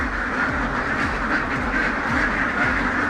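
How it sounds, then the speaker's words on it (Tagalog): Ducks quacking at a poultry farm, a steady flock chorus of overlapping quacks close by, continuous and fairly loud throughout. "Matataba yung mga itik."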